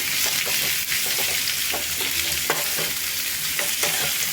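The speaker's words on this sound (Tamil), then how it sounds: "கட் பண்ண குடமிளகா, கேரட்டு எல்லாமே போட்டு, முட்டைக்கோசு எல்லாம் போட்டு, பீன்ஸ் எல்லாம் போட்டு வதக்கிக்கலாம்." Bell pepper, carrot, cabbage and beans sauté in a pan, giving a steady close sizzle with repeated clinks and scrapes of stirring throughout, no voices.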